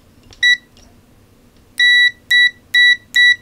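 Short, high electronic beeps from the continuity test of a ZT-703S oscilloscope multimeter: one quick beep, a pause, then four crisp tones in a fast, regular series, close and clear over a quiet background.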